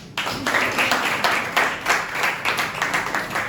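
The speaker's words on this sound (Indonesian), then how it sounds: "Oke, tepuk tangan." A classroom of students claps hands in a lesson, a loose rhythmic run of claps that starts abruptly and keeps a pulsing beat, close and moderately loud with no talk.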